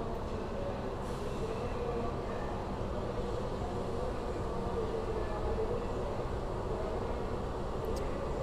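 A commuter train rolls past on the railway beside ballasted track, a steady loud rumble of wheels and carriages that fills the whole stretch, with a faint squeal near the end.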